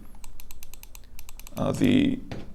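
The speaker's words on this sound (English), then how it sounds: "This is what you can expect from a regular mouse click" A rapid run of crisp clicks from a Rapoo 9300M slim metal mouse in an even rhythm, close by, ending with a brief louder burst of voice-like noise.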